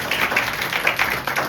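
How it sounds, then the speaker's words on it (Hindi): A church congregation at a Sunday service claps together in short, loosely rhythmic bursts, moderately loud and filling the room with no voices over it. "सबके लिए जोरदार ताली बजा देंगे।"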